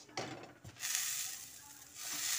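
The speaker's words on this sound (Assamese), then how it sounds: "আৰু এতিয়া ময়দাখিনি ঘিউ আৰু চেনিত ভালকৈ ভাজি লৈছে।" Flour frying in ghee and sugar for halwa gives a soft, steady sizzle that swells after the first moment and holds at moderate, close level, with faint stirring scrapes and no talk.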